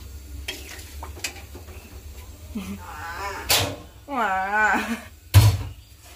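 Blended green chili paste sizzles in a hot pan while being stirred for a home-cooked lunch, with scraping stir strokes and a soft steady fry beneath a person talking, plus a sharp clatter near the end.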